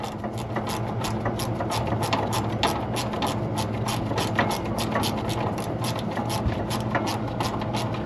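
A small hand ratchet removes bolts during a condenser replacement. Its quick, even pawl clicks repeat steadily and close up for the whole stretch, over faint mechanical background noise.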